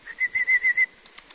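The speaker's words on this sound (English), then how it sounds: "Watch the canaries jump on their perch, Matthew." Canaries hop and flutter on their perch, producing about five short, soft bursts of wing flapping in quick succession, close by and fairly faint, followed by quiet.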